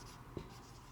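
A brief pen scratch while writing out an accounting calculation, faint and quick, a single short stroke over a quiet room hum.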